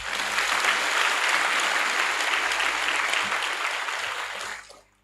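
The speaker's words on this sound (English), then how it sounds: "Shall we once again give the Director of Training another round of applause?" Trainees seated in a hall at a Nigerian Armed Forces resettlement centre give a round of applause for the Director of Training. Loud, dense clapping holds steadily for nearly five seconds before cutting away abruptly.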